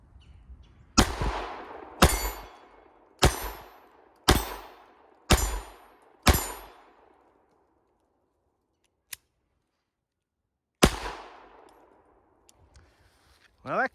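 Sharp, loud shots from a KelTec P32 pistol, six fired in steady succession about a second apart outdoors, each with a quick decaying tail, then a faint click and one more shot after a pause.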